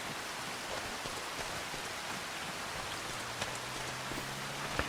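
Steady rain falls in the farming video game Farming Simulator 25, a soft, even hiss of drops throughout with a few faint taps, low in level and with no talk.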